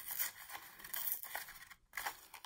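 Paper is torn into long strips for the branches of a sculptured tree canister, giving a series of close, quiet ripping bursts with brief pauses between them and no talking.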